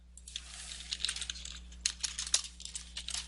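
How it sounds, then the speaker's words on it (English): Rapid typing on a computer keyboard entering a command, a steady run of close, crisp key clicks with uneven rhythm and no talking. "let me type this command"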